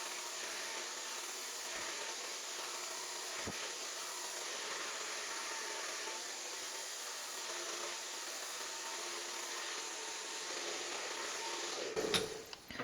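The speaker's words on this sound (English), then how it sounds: "take your round brush and blow dry, blow dry it like you would normal fringe." A hair dryer blows steadily while a fringe is dried under with a round brush, a constant broadband whoosh running unbroken through the whole stretch, with a few brief handling knocks near the end.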